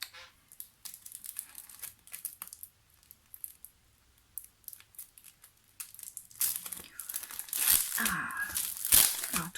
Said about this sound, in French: Alors, toujours le bruit de plastique.